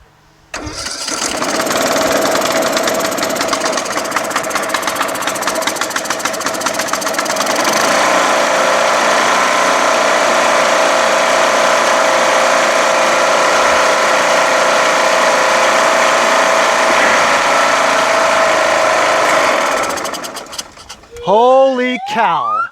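A rebuilt Briggs & Stratton 17.5 HP OHV engine on a Craftsman LTS1500 lawn tractor, run without oil, cranks, catches and runs steadily and loudly for about twenty seconds before cutting out, with a voice speaking briefly at the end.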